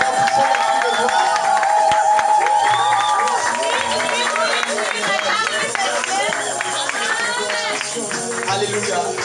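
A church congregation at a deacons' consecration claps and cheers together, a loud continuous wave of applause with shouts and crowd murmur that carries on steadily throughout.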